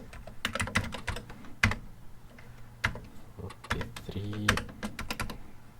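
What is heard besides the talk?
typing on a worn computer keyboard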